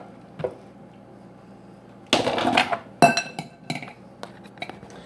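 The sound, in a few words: putting macaroni and cheese into a bowl, dishes clinking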